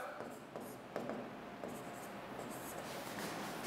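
Chalk or marker writing on a classroom board during a chemistry lesson on redox reactions, a steady scratchy rubbing with short pauses between strokes, close and moderately loud over faint room noise.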